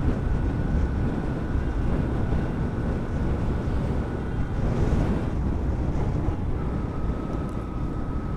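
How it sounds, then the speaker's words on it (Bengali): Strong wind buffets the microphone while riding a motorbike along the road from Dhaka toward Bandarban, a loud continuous roar with a faint engine hum beneath, no speech. "ভালোই বাতাস।"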